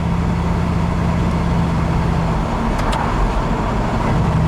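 A car with an automatic transmission, shifted manually by joystick, drives in third gear. Its engine and road noise make a steady, even drone with no speech.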